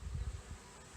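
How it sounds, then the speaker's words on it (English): A swarm of bees buzzing by a front door in Petaluma, California, a low, steady, pulsing hum close by and alone. "See all these bees."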